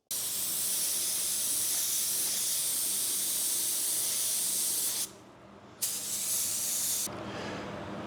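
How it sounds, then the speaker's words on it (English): A paint spray gun hisses steadily as it blows color over a car panel, a close, loud continuous spray that stops briefly twice, then resumes, with no talking. "here I'm blowing a little paint over this area"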